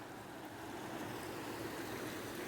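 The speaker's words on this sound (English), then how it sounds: "You can hear the fast flowing waters." A small fast-flowing stream near the River Esk rushes steadily in a quiet outdoor walkway setting, a continuous broadband wash of water with no voices.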